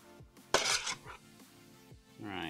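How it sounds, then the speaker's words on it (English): An egg is cracked and briskly whisked into egg wash in a bowl, with a sharp tap and a run of quick light clinks and scrapes, close and fairly quiet. "We're just gonna crack open an egg, give it a quick little mix, and we can use that for some egg wash."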